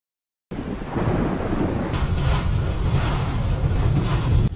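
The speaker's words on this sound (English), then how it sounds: "Lightning slams into an open field as people record nearby" A heavy, sustained rumble of thunder from a lightning strike in an open field rolls on for several seconds, loud and close, with a rush of rain and wind beneath it.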